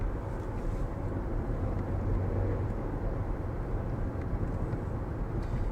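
Vauxhall Astra J turbo driving on the Millbrook test track, a steady low engine and road rumble from inside the cabin, constant and fairly loud throughout with no talk.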